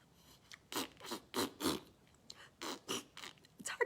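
A voice sputters and buzzes in bursty, rough blasts, imitating a loud rumbling car muffler, close and uneven with short pauses between.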